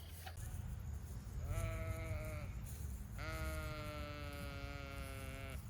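Farm sheep bleat twice, a shorter wavering call followed by a longer, louder one, heard fairly close over low background rumble.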